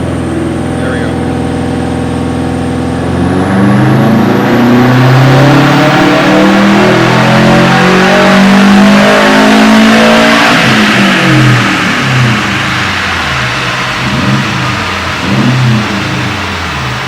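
Built 2006 Subaru WRX engine on a dyno, revving loudly and steadily up through a long pull with a rising mechanical tone and rough exhaust roar, near and continuous throughout.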